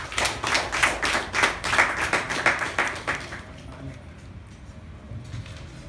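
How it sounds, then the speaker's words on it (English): A small group claps in a burst of bright, rhythmic applause for about three seconds, then it fades into a quiet room. "give her a wonderful round of applause"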